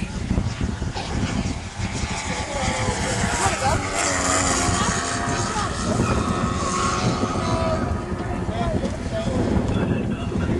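A large radio-controlled Yak 55 aerobatic plane with a 170 aircraft engine flies overhead, a continuous buzzing propeller drone with wind buffeting, while people talk over it throughout.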